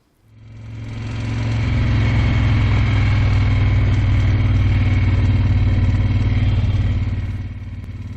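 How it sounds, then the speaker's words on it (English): An old Goodsey Eldorado motorcycle engine runs steadily with a clattery mechanical rattle, loud and close, rising at the start and holding an even idle-like drone with no talk. "that bike sounds a bit clattery"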